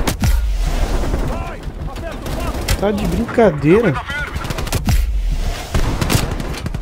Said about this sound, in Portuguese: Vou me proteger aqui porque é muito tiro